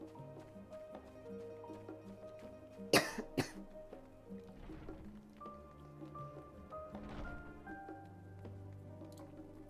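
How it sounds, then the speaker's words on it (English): A person with allergies coughs in two sharp, close bursts, followed by fainter throat-clearing sounds, under steady background music from a game. "why I'm coughing so much"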